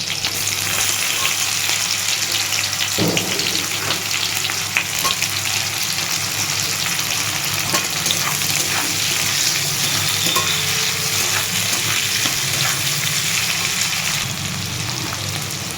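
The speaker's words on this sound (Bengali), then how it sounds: "পেঁয়াজ টমেটো ক্যাপসিকাম সবই একসঙ্গে আমি ভেজে নেব" Onion, tomato and capsicum fry together in hot oil with curry leaves and green chilli for a chicken dish, giving a steady, close sizzle with occasional stirring scrapes throughout.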